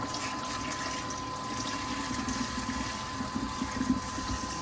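Running water from a tap flows steadily into a sink while meat is rinsed, a moderate continuous splashing with a faint constant hum and small irregular sloshes, no speech.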